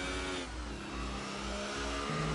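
A race car engine revs hard with a loud, sustained buzzing drone whose pitch shifts up and down as the throttle changes, with no talk over it.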